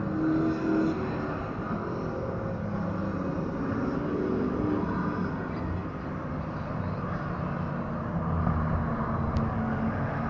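Race cars at the Waterford Hills road course accelerate out of Swamp Turn, a distant, steady engine roar heard faintly across the track.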